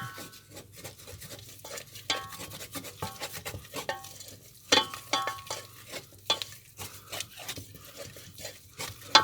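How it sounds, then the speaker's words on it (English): Flour being stirred quickly into melted butter in a pan for a fish pie sauce, a close, irregular run of scraping and clacking strokes from the spoon against the pan, with a faint sizzle underneath and no talk. "gradually add flour. But you've got to keep on mixing fairly quick"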